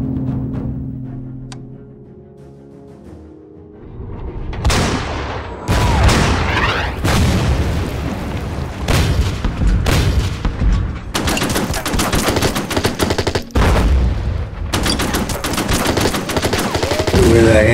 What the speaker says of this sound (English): Anti-aircraft guns,